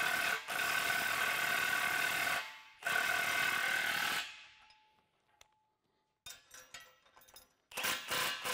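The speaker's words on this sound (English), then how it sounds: "we're going to take an 1 1/8 socket and wrench and tighten that down." A socket wrench with an 1 1/8 socket tightens 3/4 inch bolts on a tractor front weight bracket, giving bursts of harsh rasping ratchet noise separated by pauses, then quieter clanks and clicks.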